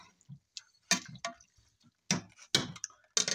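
Water is poured into a cooking pot for pansit, heard as a few sharp splashing bursts separated by near silence, close and moderately loud.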